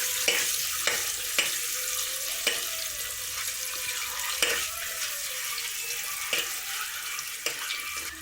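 Eggs frying in hot oil in a pan for an Indian egg biryani, a steady crackling sizzle with soft scraping stirs and a few sharp clicks from the utensil.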